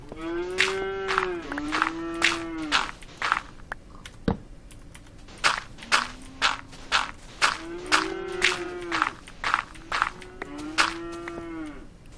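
Cattle mooing repeatedly, a series of loud, drawn-out lowing calls from several cows close by, with some shuffling footsteps between calls.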